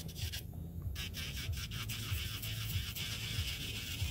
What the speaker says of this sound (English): I'm going to use the skinny sanding bed and mandrel